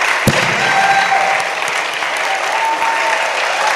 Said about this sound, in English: You're going to clap.